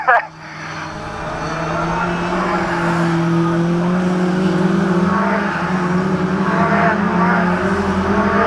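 Race cars lapping an oval raceway during a race meeting, a continuous layered engine drone from several cars at moderate distance with shifting pitch, beneath a commentator's voice.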